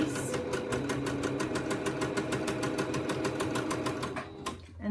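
A sewing machine stitches steadily at a fast, even mechanical rhythm, then slows and stops near the end.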